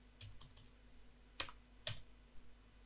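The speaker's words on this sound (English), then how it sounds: "and then I'm gonna do is type in this one" A few isolated keystrokes tap on a computer keyboard while entering data in a spreadsheet, sparse light clicks with two sharper presses, close but quiet against a low steady room hum.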